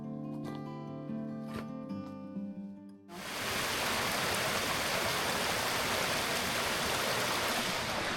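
Clear, freezing cold mountain stream rushing in northern Albania, a dense steady wash of water that bursts in loud after a few seconds of quieter tonal sound and then flows on unbroken.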